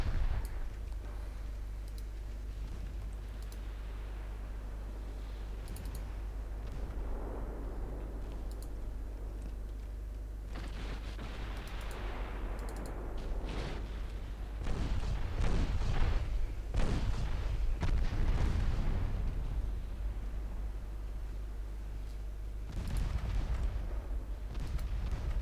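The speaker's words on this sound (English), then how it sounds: "I need my battleships to stop firing at the enemy battleship and instead target the enemy" Battleship naval guns fire in the Ultimate Admiral Dreadnoughts game, a series of deep distant booms and rumbling blasts over a steady low engine drone, with quieter stretches between bursts.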